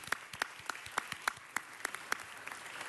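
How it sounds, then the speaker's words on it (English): Applause at a city council meeting for Paul Hirsch, a STEM Academy principal: a small group claps in a quiet room, scattered distinct claps at an uneven rhythm. "Let's give him a round of applause."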